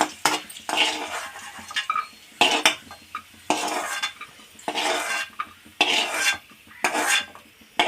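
Raisins roasted in ghee being scraped from a pan onto a plate, with repeated metallic spoon scrapes and clinks against cookware in bursts, close and fairly loud, no talking.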